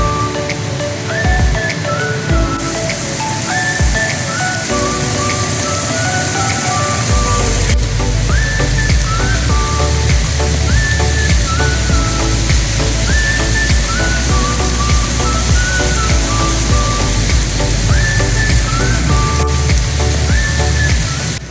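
Steady, heavy rain in Singapore makes a constant broadband hiss for the whole stretch, layered under a repeating melodic tune.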